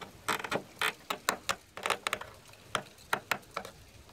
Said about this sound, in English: Pop out the old clips